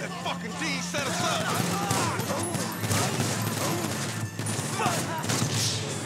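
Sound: gunfire in the video game GTA V

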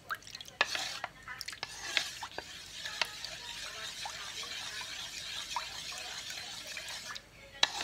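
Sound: stirring Singapore flour and tapioca starch into water

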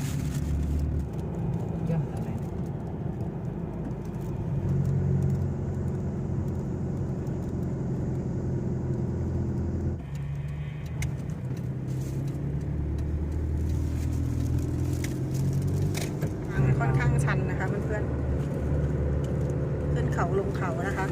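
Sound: car engine climbing steep mountain road in low gear

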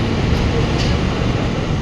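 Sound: moving train heard from inside

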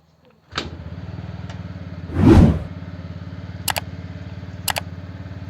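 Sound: TVS Ntorq scooter engine started and running

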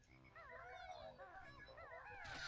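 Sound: frog croaking in video game Banjo-Kazooie

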